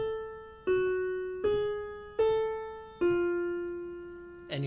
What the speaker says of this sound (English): there are some ambient guitars in there that sound like this